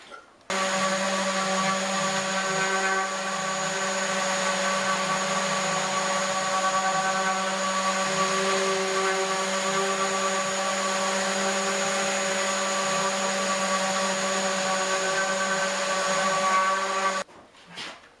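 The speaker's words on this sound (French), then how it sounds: "Avant de tout remonter ensemble, je veux tout sabler comme il faut." A power sander works over a wooden table panel, stripping old varnish, running as one steady, loud, continuous whine for most of the stretch before stopping abruptly, with no talking.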